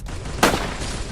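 A single sharp gunshot from the battle royale game Free Fire, a close loud burst that stands out against a steady background of game ambience, with no talk over it.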